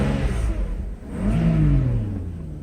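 Mercedes 600SL V12 revving up under acceleration, the engine note rising from a low rumble to a stronger, louder pull over a couple of seconds, heard from inside the car.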